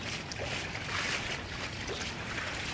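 Floodwater from the April 18, 2016 flood rushes over a footpath near a bayou, a constant broad hiss and churn of current that stays close and steady throughout.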